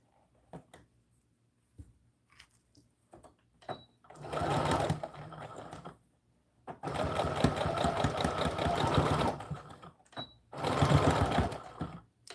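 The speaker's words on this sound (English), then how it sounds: "You just go a little forward and a little backward at the start and the end to tie off your thread." A sewing machine stitches a doll dress from a McCall's American Girl pattern in three loud, steady motor runs, a short burst, a long stretch and another short burst, separated by quiet gaps with small handling clicks.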